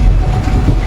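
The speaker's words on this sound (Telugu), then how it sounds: "సో మన ట్రైన్ అయితే స్టార్ట్ అయిపోయిందండి ఇప్పుడు." Tirumala Express from Vizag starting to move, a loud, close, low rumble of the coach under way, brief and steady.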